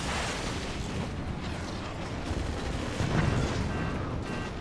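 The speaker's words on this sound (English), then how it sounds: "The mortars are landing." Mortar rounds landing and exploding in a competitive Minecraft-style team match, a dense continuous rumble of blasts and impacts with a heavier burst near the end, with no talk over it.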